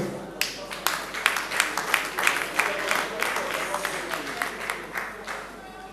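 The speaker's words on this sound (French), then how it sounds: "Applaudissons." Audience applause at a cultural festival, a crowd clapping steadily for several seconds with some louder individual claps standing out, moderately near and under a faint murmur of voices.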